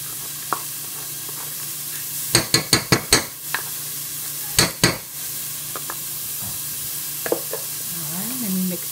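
Garlic and oregano sizzle softly in a pan while a metal utensil stirs them, giving a quick run of sharp scraping clinks, a second pair a moment later, then scattered lighter taps over the steady frying hiss.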